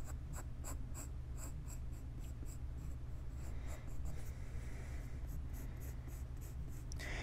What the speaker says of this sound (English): So let's get started with the head. And the way how we're going to draw the head is we're going to make it like a twisted egg.